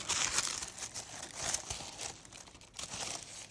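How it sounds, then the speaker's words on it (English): A cardboard package from a mail order is ripped open by hand, with continuous crinkling and tearing of paper and card, close and fairly quiet, no talking. "I'm just gonna rip it open"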